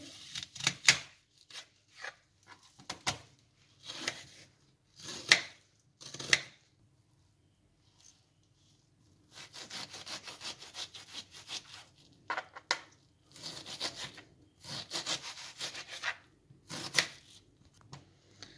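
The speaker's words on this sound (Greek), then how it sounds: "θα κόψω το κρεμμύδι" Knife chopping onion on a cutting board, as prep for a broccoli gratin, in bursts of quick rhythmic close cuts with short pauses between, then longer scraping-chop runs.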